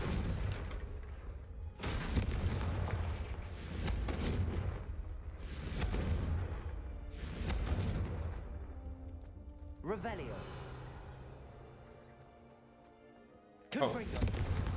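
Repeated fiery blast spells in Hogwarts Legacy, a series of loud booming impacts about every two seconds, each decaying quickly, followed by a ringing swell and one more blast; people talk between them.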